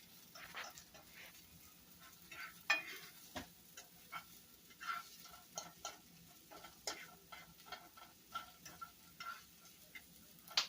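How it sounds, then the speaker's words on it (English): Onions sautéing in a pan for a home family dinner, a soft steady sizzle under frequent light scraping and stirring taps, close and fairly quiet with no talking. "So you want to just let them cook and get them a little soft. Saute them for about a minute or two."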